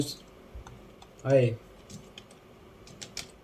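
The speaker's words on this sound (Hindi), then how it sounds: "type the word race car लिख देता हूँ" Sparse, faint clicks of fingers typing on a computer keyboard, a few scattered keystrokes, interrupted midway by a short voiced sound.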